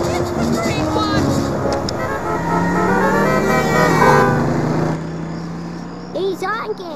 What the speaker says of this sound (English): He's honking!